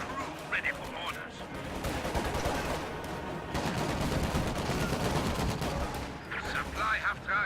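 Rattling gunfire sounds from a war strategy video game: repeated bursts of small-arms and machine-gun shots, moderately loud and overlapping in a continuous battle din.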